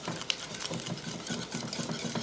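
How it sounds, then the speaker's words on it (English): Remoulade ingredients, including Creole mustard and garlic, are whisked together in a bowl, making quiet, quick, rhythmic clicking strokes. "Then we're just going to whisk that all together."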